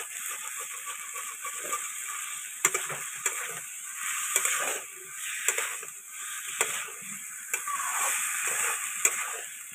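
Vegetarian winter dish sautéed in a pan, a low steady sizzle under repeated sharp clicks and scrapes of a spatula stirring at an uneven rhythm, fairly faint and without speech.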